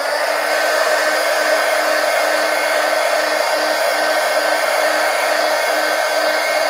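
A hair dryer blows a steady, loud, close whoosh without a break as it dries a page of an altered book during sketching.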